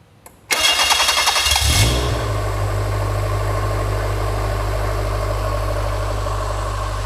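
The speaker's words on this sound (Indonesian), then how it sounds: "Nah, setelah mesin di starter," A fuel-injected car engine with electronic engine management cranks briefly with a whirring starter, catches, and settles into a loud, steady idle with a deep, even hum lasting several seconds.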